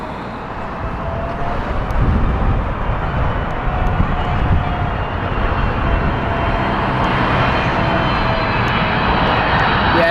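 A Saudi airliner jet arrives at Heathrow Airport in crosswinds, its engines a loud, broad continuous roar that holds steady close by, with no talking.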